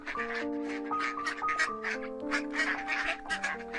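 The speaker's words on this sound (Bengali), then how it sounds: "সোনালি হাঁসের বাচ্চাগুলোকে ছেড়ে দেয় পোকামাকড় খাওয়ানোর জন্য" Ducklings quack in a busy, overlapping chorus of short nasal calls, loud and close throughout, in an animated Bangla village story about duck farming by a pond.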